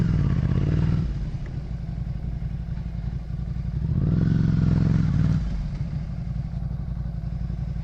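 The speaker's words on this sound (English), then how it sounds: "Here comes somebody on a KTM 690 Enduro." A KTM 690 Enduro motorcycle approaching on the road, a loud, steady single-cylinder engine drone that swells as it nears, with the rider's own machine rumbling underneath and no talking.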